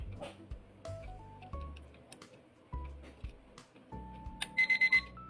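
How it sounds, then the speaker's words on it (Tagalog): A small children's alarm clock switched on with a toggle lets out a quick burst of rapid, loud beeps near the end, following a stretch of soft melodic background tones. "Kailangan mo lang itoggle yung switch para ma-on yung alarm feature niya."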